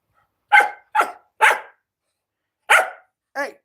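Five sharp, high barks from a young dog, three close together, a pause, then two more, loud and near against silence.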